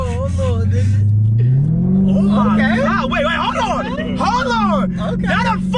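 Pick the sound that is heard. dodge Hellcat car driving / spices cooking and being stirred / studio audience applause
dodge Hellcat car driving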